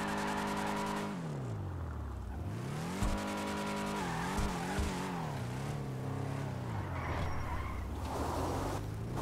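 A car in the GTA V video game revs its engine through repeated rising and falling sweeps while its tires squeal and skid, loud and steady throughout.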